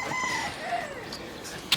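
Chickens cluck softly in a short burst, fairly close, over faint background noise.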